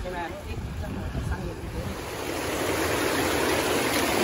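Flowing stream water after floodwaters have receded, heard as a continuous rushing wash that grows slightly louder and steadier toward the end, with wind buffeting the microphone.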